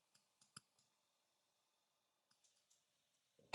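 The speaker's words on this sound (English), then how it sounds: "So I'm going to double click there." A computer mouse double-clicks while mixing a track in Logic Pro, sharp paired clicks near the mic, a short cluster early then another group of clicks after a pause, with a louder knock at the end.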